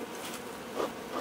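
Honeybees buzz in a faint, steady drone with slight swells as they are caught by hand by the wings during a beekeeping lesson for children.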